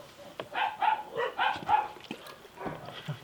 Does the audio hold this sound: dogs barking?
yes